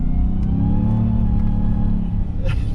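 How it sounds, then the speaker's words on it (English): Supercharged engine of a RAM TRX pickup revving hard while driving, a loud, deep, continuous roar with supercharger whine layered on top. "the supercharger, whoa, whoa, whoa, whoa, it sounds so good"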